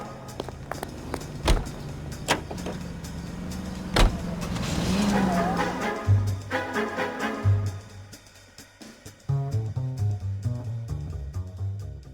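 Car driven in the video game L.A. Noire, with a low engine rumble and road noise, a couple of sharp knocks, and a rising engine pitch midway; music-like tones surface in the second half.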